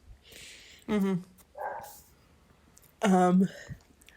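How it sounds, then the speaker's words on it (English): Two separate loud dog barks with a short muffled yip between them, fairly close, with no talking. "I hear dogs in the background"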